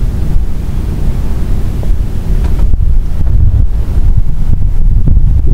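Strong monsoon wind roars across a microphone at sea around a small fishing boat, with loud continuous buffeting, waves and a few sharp knocks.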